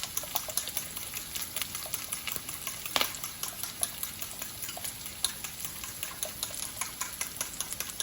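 Vegetable and egg omelette mixture with a splash of milk is mixed in a bowl, a busy run of quick clicking, tapping strokes over a faint frying-like hiss, close and steady, with one louder clack midway and no talking.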